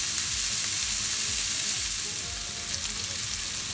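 Kofta kebabs fry in a pan over medium heat, giving a steady close sizzle with a faint bubbling crackle underneath that eases slightly toward the end.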